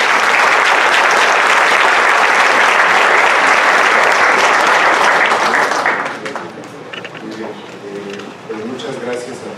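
An audience claps loudly at the inauguration of an international nursing congress, a thick burst of applause that lasts about six seconds before dying away as a voice begins speaking.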